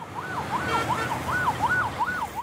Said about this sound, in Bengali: অথচ ঢাকায় অ্যাম্বুলেন্সে ব্যবহৃত হয় 110 ডেসিবেল